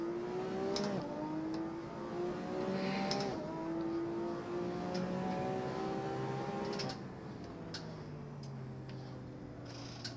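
Race car engine in a sim racing game on a Fanatec DD2 wheel, revving steadily with rising and falling harmonic whines through the lap, easing lower near the end, with faint ticks and no talk.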